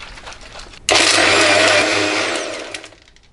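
An electric mixer grinder blending a dry fruit milkshake with milk, starting abruptly after a quiet moment, roaring loud and steady, then winding down toward the end.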